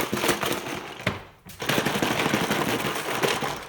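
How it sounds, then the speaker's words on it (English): A parts washer agitating heavily soiled steering gear box parts from a vintage Mopar, giving a loud, steady mechanical rattling and clatter that cuts out briefly before resuming. "I put some of my heavy soiled items into my parts washer. And they've been agitating for a while."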